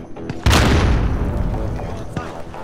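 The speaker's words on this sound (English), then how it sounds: "Throw a frag grenade." A frag grenade explodes during a Warzone match: a sudden loud, broadband boom with a deep low-end thump that decays into a long rumbling tail over a couple of seconds.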